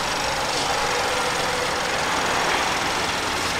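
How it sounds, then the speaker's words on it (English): A used car's engine idles steadily on a dealer lot, a constant close mechanical hum with a faint rattle and no talk over it. "The motor sounds fine."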